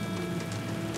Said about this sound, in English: Here comes the rain. It's pouring now.